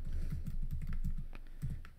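Steady, rapid keystrokes on a computer keyboard, close and fairly quiet, with a few louder clacks near the end and no one talking.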